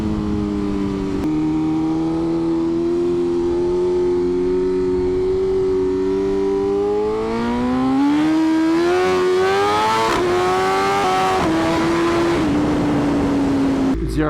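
A BMW M1000RR motorcycle engine revs loud and close while riding, holding a steady drone that climbs in pitch through the gears with a sharp rise near the end.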